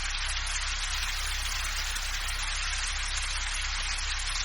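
Continuous rain falls steadily in a cartoon story scene, a dense, even hiss of rainfall that stays at the same level throughout, with no talking.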